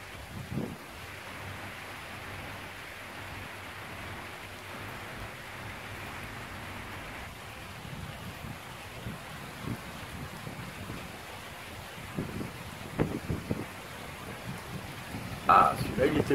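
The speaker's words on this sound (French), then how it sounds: "Il y a beaucoup de vent aussi." Steady rushing wind noise buffets the microphone throughout, with occasional louder gusts and brief bumps toward the end.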